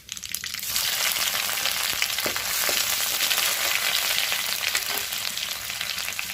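Chana dal, cumin and grated ginger fry in hot oil, a dense continuous crackling sizzle that starts after a quiet moment and stays steady, with faint stirring scrapes, no voices.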